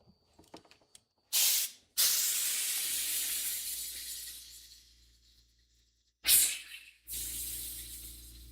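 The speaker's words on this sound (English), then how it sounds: "I'm going to drop the pressure on the air compressor." An air compressor being worked on in a garage during carburetor work on a bus releases pressure in sharp bursts of loud, close hissing. A long airy rush fades slowly, then another short blast follows, with a low hum underneath.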